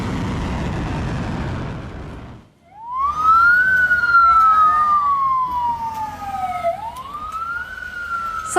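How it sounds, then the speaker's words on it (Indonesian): An air raid siren in Israel wails in long rising and falling sweeps during an Iranian missile attack, after a burst of broadband noise, loud and sustained, with some background rumble. "Serangan ini memantik sirine di wilayah Israel"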